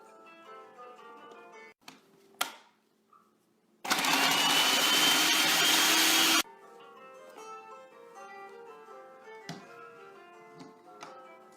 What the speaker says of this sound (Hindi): ये मैंने अदरक डाल लिया, लहसुन और हरी मिर्चें डाल के हम इनको ग्राइंड कर लेते हैं।